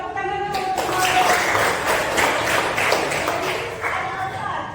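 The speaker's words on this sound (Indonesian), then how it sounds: "tepuk tangan dulu untuk Maulia" Classroom applause breaks out for a student, a dense, steady clatter of many hands clapping for several seconds, loud and close, with faint voices mixed in.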